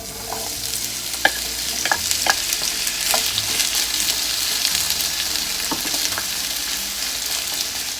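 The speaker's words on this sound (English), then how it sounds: "in my frying pan, I'm going to put some oil. And we're going to get these potatoes and onions all nice and crispy." Potatoes and onions fry in oil in a frying pan for a Great Depression-era 1929 meal, giving a steady, close sizzle broken by occasional scraping stir clicks, with no talking.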